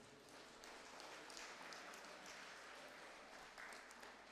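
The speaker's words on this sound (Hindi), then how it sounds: "ये बहन लोगों के लिए जोर से हम ताली बजाए।" A church retreat audience claps steadily for the sisters, a dense and even wash of many hands that fills the whole stretch at low level, with no voices above it.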